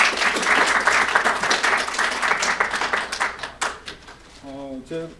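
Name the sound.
audience applause at a conference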